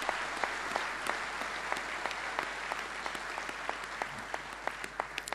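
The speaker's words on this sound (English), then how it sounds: "Give her a big cheer, ladies and gentlemen." An indoor audience claps steadily with some scattered cheering at a prize giving for a national shearing circuit final, a dense, even wash of clapping without talk.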